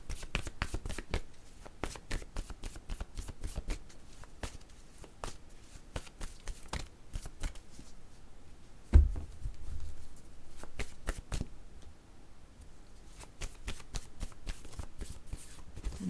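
Playing cards are drawn and handled up close, giving a rapid series of crisp snaps, flicks and papery rustles with a short pause midway and no talking.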